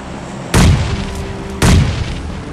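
Two heavy, close grenade blasts in a mobile shooter game, each a sudden loud boom about a second apart, followed by a short rumbling tail, with no talking.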